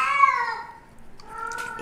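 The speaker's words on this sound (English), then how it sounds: "It's not Faisal, it's the other cat that's named Hennessy." A cat named Hennessy gives one drawn-out, wavering meow followed by a shorter rising mew, close and fairly clear, with no talk over it.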